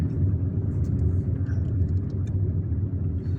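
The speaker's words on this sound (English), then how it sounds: "I'm driving at 20 kilometers per hour." A car creeps slowly up a very steep road in Algiers, with a steady low engine rumble and road noise that stays close and even, plus a few faint high clicks and no talk.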